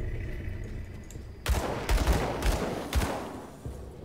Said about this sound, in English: God, they do like a lot of shooting, don't they?